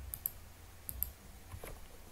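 Computer keys click quietly in a few short bursts as a filename is typed by hand, faint and close against low background hum, with no talking.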